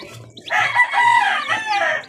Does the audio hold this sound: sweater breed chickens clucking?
yes